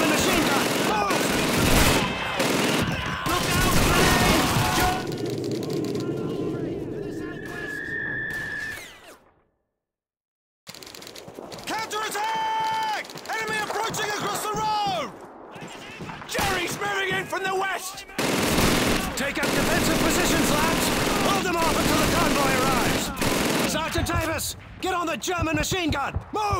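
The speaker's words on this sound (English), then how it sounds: "Sergeant Davis, get out the German machine gun!" A German machine gun fires in Call of Duty 2 battle, long dense bursts of automatic gunfire and explosions filling the scene, broken by a brief silent gap, with shouted voices and game sounds mixed in.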